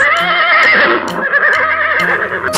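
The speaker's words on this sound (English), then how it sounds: "Horse." Horse neighing loudly and close, a drawn-out whinny with a wavering pitch that carries through the whole short stretch.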